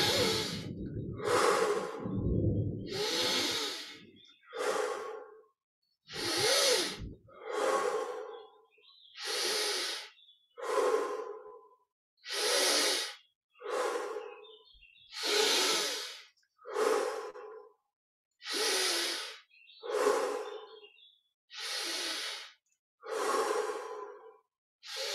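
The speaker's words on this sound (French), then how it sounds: "On inspire par le nez, on expire par la bouche 20 fois profondément." Slow, deep breaths drawn in through the nose and pushed out through the mouth during a guided meditation, about a dozen long airy cycles, close and clear, each separated by short silences.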